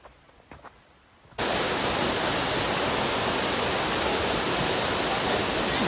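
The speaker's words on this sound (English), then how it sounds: "Long Creek Falls." Long Creek Falls, a waterfall in Georgia reached by a side path off the Appalachian Trail, roars with a sudden, steady rush of falling water that cuts in after a brief quiet moment and then stays loud and constant.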